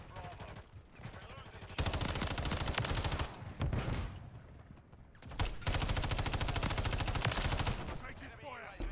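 Rapid automatic gunfire in the video game Lethal Company, dense bursts of shots rattling for a few seconds at a time with short pauses between them, close and sustained.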